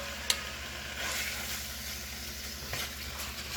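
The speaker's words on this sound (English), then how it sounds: "get this meat in this pan. And let it start cooking on up on us" Chicken meat sizzles in a pan of olive oil with a quiet, steady crackle, broken by one brief clink near the start and a soft bump later.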